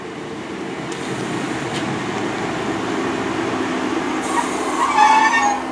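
A Class 150 diesel train, unit 150 263 in green livery, rumbles at Severn Tunnel Junction with a steady low drone and wheel noise, rising squeals near the end.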